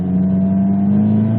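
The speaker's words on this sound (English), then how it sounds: "Now I'm gonna floor it. All right, it's floored." A car floored at full throttle shortly after starting off: a loud, steady engine drone with strong low harmonics holding nearly constant pitch throughout, close and unbroken.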